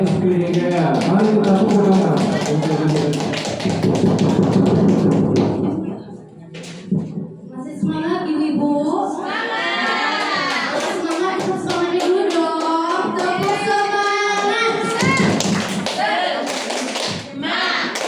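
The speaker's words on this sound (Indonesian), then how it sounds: "Mari kita tepuk tangan." Audience in a room clapping for the next presenter during an education session, dense rhythmic clapping at first, then voices speaking and singing with more claps.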